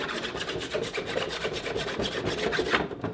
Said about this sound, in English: you can start filing some of the back